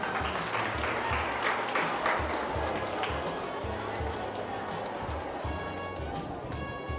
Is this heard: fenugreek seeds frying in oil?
no